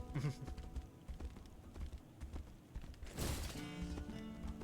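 Horse hooves clip-clop in the video game Tainted Grail: The Fall of Avalon, a quiet, uneven patter of hoofbeats under faint background game sound, with a brief louder burst midway.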